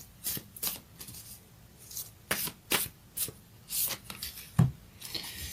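A Moonology oracle card deck is shuffled by hand, giving a series of quick, close riffling and sliding card sounds in irregular bursts, soft and without talking.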